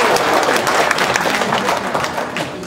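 A banquet audience at an education foundation's fifth anniversary celebration in Atlanta applauds a foundation director with dense, sustained clapping that tapers slightly toward the end.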